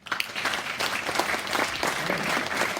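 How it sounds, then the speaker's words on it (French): A congregation applauds steadily and continuously, a dense wash of many hands clapping at moderate distance with no talk over it. "j'aimerais vraiment qu'on puisse les remercier pour ça par un vrai applaudissement."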